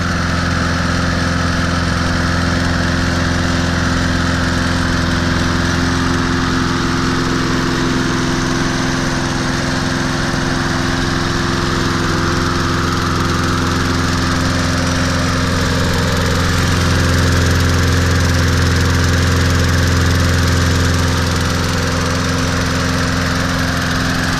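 A Snapper R21400 walk-behind lawn mower with a 4.0HP engine, found in the trash and having carburetor issues, running close up with a loud, steady drone and a constant low hum that holds throughout.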